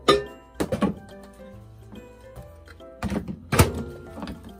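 Microwave oven door opened to take out chicken, with a couple of sharp clunks and rattles from the door and dish handling, close by, separated by quieter gaps.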